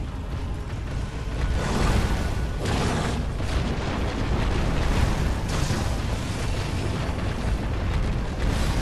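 Firecrackers going off during a boss fight in the video game Sekiro: Shadows Die Twice, a dense, loud run of booming bursts and crackling pops mixed with continuous game sound, with no talking.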